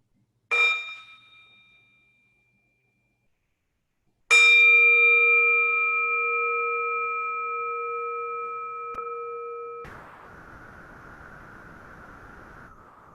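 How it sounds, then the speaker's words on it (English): A bell is struck during a Buddhist talk: a faint first tap, then one loud ringing strike whose clear tones sustain and slowly fade, followed by a steady hiss. "Why don't we enjoy a sound of the bell?"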